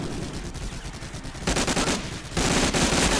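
Video game gunfire aimed at the player rattles in rapid automatic bursts, dense and loud, growing heavier in two louder stretches with no voices over it.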